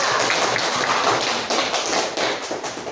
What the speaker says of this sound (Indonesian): Betul sekali, aplaus untuk teman-teman.